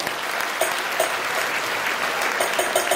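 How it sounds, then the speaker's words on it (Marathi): Audience applause at a Home Minister stage event in Paranda, steady loud clapping from a crowd with a few sharper claps standing out, no voices over it. "टाळ्या वाजू एकदा यांच्यासाठी."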